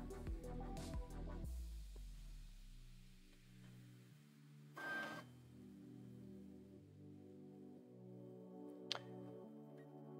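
An Artillery Sidewinder X4 Plus 3D printer runs its nozzle-cleaning routine. Its stepper motors give faint, stepped tonal whirs that shift in pitch, broken by a short scraping burst and a later click, all quiet and without speech.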